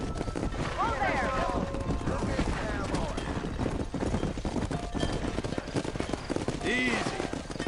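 Galloping horse hooves clip-clop in the Red Dead Redemption remaster, a busy game soundscape with steady hoofbeats mixed under voices and a brief whinny-like call near the end.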